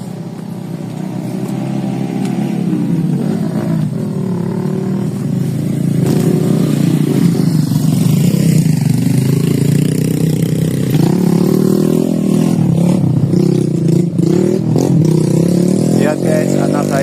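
Motorcycle taxis ride a steep mountain hiking trail, their mid-pitched engines droning steadily and close for a long stretch, rising and revving over rough ground with some clatter, while people talk underneath.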